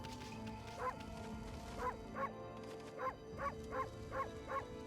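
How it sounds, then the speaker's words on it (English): Dog barks from the bark button in the video game Okami, eight or so short yips spaced roughly evenly over a few seconds, fairly clear above a steady game soundtrack. "This game's got a bark button."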